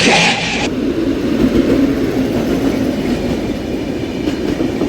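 A special train from Tambaram to New Tinsukia rolls steadily past, its wheels keeping up a continuous clickety-clack on the rails, loud and close throughout with no talk.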